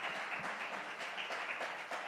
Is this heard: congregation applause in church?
yes